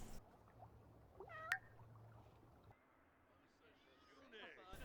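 A cat in The Sims 4 lets out a couple of short, faint meows over quiet game ambience, followed by soft rustling noises.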